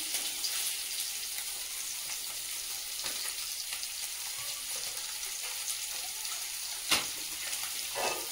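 Dry chillies, black cumin and a bay leaf sizzling in hot oil, a steady soft crackle and hiss with a few sharper pops and clinks, no talking.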